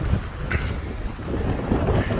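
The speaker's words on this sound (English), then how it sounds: "Wish the wind was a little less though" Strong wind gusts buffet the microphone at a night campsite where people sleep in tents, rooftop tents and Jeeps, a loud, continuous low rumbling roar with fluctuating gusts and no talking.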